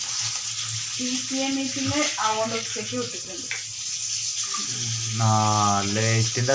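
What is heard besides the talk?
fish frying in a pan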